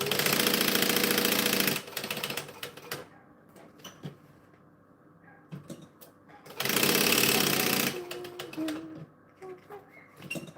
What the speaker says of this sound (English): And we're going to baste it down.